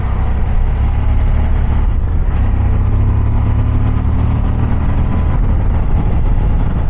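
A Suzuki V-Strom 1050 SE twin-engine motorcycle drones steadily while riding, a low, continuous engine hum with wind noise and a slight rise in pitch midway, loud and close throughout with no talking.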